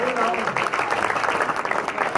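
A standing church congregation applauds in worship, a dense, loud wash of clapping with voices and cheers mixed in, sustained without a break.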